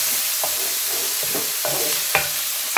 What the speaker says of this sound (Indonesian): Jadi ini kita aduk sampai dia layu.